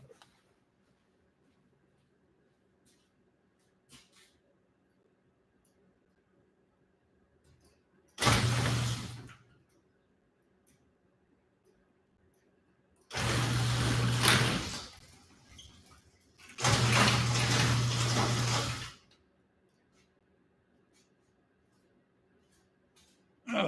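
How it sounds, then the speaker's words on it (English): A workshop garage door, not fully down and with a worn bottom gasket, makes three separate rumbling, scraping runs of one to two seconds each, set apart by long quiet gaps. "I guess y'all heard the garage door."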